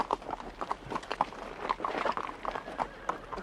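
Horse hooves clip-clop in a steady, quick rhythm from a ridden horse, fairly close and moderately loud, with faint voices mixed into the background.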